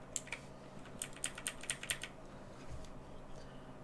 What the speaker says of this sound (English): this is our first real typing